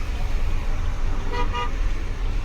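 Dense road traffic in Pune, with a steady rumble of engines and a short car horn toot sounding amid the continuous roadway noise.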